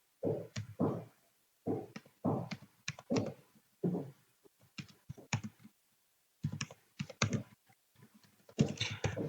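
Someone types on a computer keyboard while setting up a template for an AWS autoscaling tutorial, producing bursts of quick, close clicking keystrokes separated by short pauses, with no talk.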